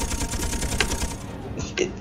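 Rapid Gatling gun fire from an AC-312 Specter gunship in the video game Space Engineers: a dense, continuous mechanical rattle of shots that stays loud and steady throughout.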